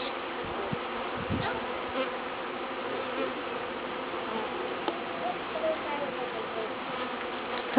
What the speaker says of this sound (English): there's a bee on your side